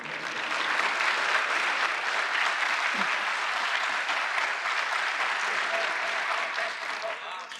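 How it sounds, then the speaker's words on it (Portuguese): An audience applauds steadily at a government event launching aquaculture and fishing credit lines, the clapping sustained for several seconds before tapering off near the end. "Palmas para o presidente Bolsonaro,"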